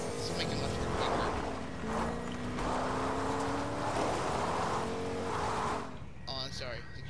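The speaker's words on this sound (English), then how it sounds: "I hear a car." A car drives in the battle-royale game Fortnite, its engine droning steadily at close range with wavering pitch and gear changes, fading slightly near the end as voices chatter over it.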